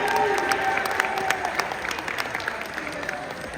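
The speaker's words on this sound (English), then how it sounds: "give yourself a round of applause for being a leader" Applause from an audience at a leadership conference in Las Vegas, sharp claps and crowd noise starting strong and tapering off, with some voices mixed in.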